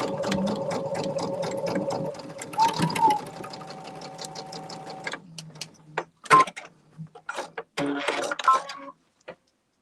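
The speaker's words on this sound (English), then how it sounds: "I'm going to make a bigger stitch this time just to make sure." A sewing machine stitches quilt block seams in a fast, even whir for about five seconds. Clicks, knocks and a few short bursts of stitching follow with pauses between them, and there is no talking.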